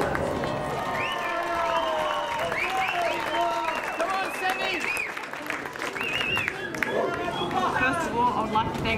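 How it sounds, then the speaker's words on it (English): Crowd applause with cheering and chatter for the runners-up at an under-13 youth football grand final between Sydney University and Camden Tigers, steady and dense throughout, with a public-address voice speaking over it. "another round of applause for our runners-up today"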